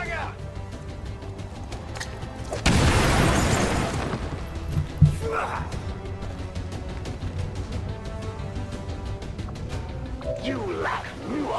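A frag grenade detonates in the strategy game XCOM 2, one loud broadband blast lasting about a second amid ongoing game sounds and voices talking.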